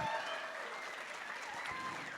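Audience applause at the Contact in the Desert 2019 gathering, a steady wash of many people clapping heard quietly and at a distance, holding an even level for a couple of seconds.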